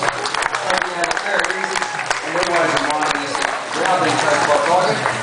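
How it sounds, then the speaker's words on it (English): Audience applause at a zoo tiger presentation, a spread-out patter of clapping from a crowd outdoors, mixed with a presenter's voice talking over it throughout. "give her another small round of applause"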